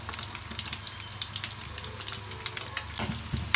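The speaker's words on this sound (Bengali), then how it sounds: "এবার আমি এটাকে ডিম ফ্রাই ভেজে নিব সুন্দর করে।" An egg frying in a pan gives a close, steady sizzle dotted with sharp spits and crackles that come in quick irregular bursts, with no voices over it.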